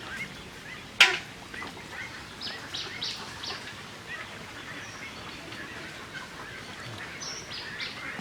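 Ducks quack in scattered short calls on a netted pond used for combined duck and fish farming, with one sharp knock near the start and outdoor ambience throughout.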